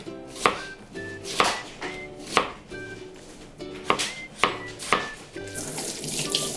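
Steady rhythmic knife chops on a cutting board as an onion is sliced into thin 1–3 mm slices, about a dozen crisp close strikes with faint running water in the background, no talk.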